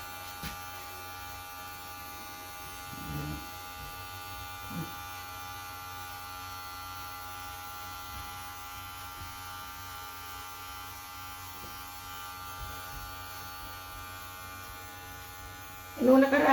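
Electric hair clippers buzz steadily through a home haircut of a young woman, a faint continuous hum with a few brief knocks and a louder burst at the very end, no speech over it.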